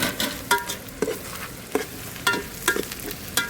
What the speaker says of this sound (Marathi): टोमॅटो टाकतोय आता.